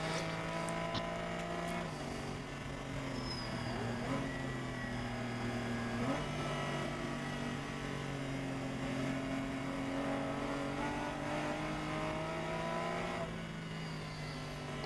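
A race car engine drones loudly on track while closing in behind lap traffic, a sustained close-up tone that steps through gear shifts and rises and falls with throttle across the run.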